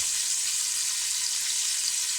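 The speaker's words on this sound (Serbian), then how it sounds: "Nek se ovo prži još na jedno 5-6 minuta, pa ćemo da izvadimo i da dodamo meso da se proprži." Constant, even sizzling of pork, sausage and bacon frying in a pan, a soft hiss that holds steady throughout with no talking.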